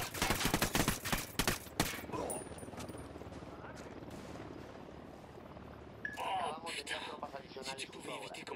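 Gunfire in the video game Ghost Recon on Xbox One: a rapid, loud burst of shots for about two seconds, then quieter combat sounds with people talking over them.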